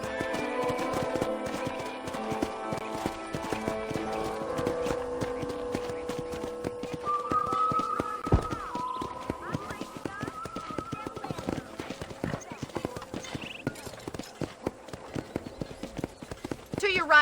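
A horse's hooves clip-clop at a steady trot in Red Dead Redemption, running continuously at moderate loudness beneath game music and occasional voices.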